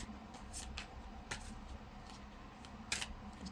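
A tarot card deck being shuffled, soft papery riffles and brief crisp flicks at irregular intervals, quiet and close with no talking.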